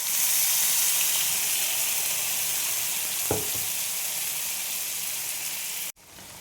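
Black cumin seeds and a freshly ground tomato spice paste hit hot oil in a pan, giving a loud, steady sizzle and frying hiss that runs for several seconds before cutting off abruptly.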